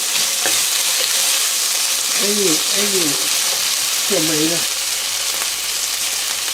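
New York steak beef frying in a pan, a steady loud broadband sizzle throughout, with brief voiced sounds from a speaker partway through.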